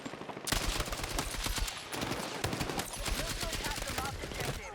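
KTS100 MK8 light machine gun firing in Battlefield 6: a sustained, rapid automatic burst right after a short pause, dense and loud up close, with brief speech murmurs underneath.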